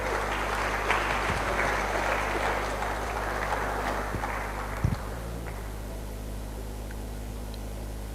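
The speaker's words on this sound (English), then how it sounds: "Please put your hands together." An audience applauds at a book presentation in a hall for a book on modern Nigeria, with steady, dense clapping that holds for about five seconds and then thins into a quieter room tone.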